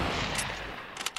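Hunting rifle fire in a video game, rendered as a dense run of loud, sharp cracks through most of the moment, then a brief dip and a couple of late bursts.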